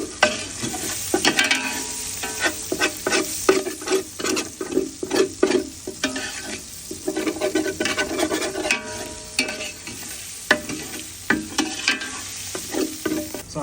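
Curry powder toasts and fries in a pan for a Caribbean dish, a close, crackling sizzle broken by repeated scraping stirs in an uneven rhythm.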